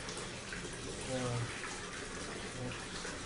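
Clothes being washed and rinsed in a basin of water by a one-year-old child, with steady sloshing and splashing throughout while an adult voice speaks nearby.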